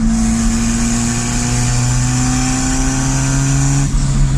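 A turbocharged D16 engine in a Honda Civic runs steadily at a raised idle, its harmonic drone holding for several seconds with a brief dip near the end, loud and close with no voices.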